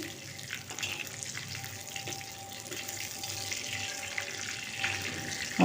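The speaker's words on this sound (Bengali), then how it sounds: "ফোড়নটা খুব সুন্দরভাবে ভাজা হয়ে গেছে" Whole spices and a pinch of asafoetida fry in hot oil as the tempering for a Bengali raw mango masoor dal, giving a soft, steady sizzle with a few faint stirring clinks near the pan.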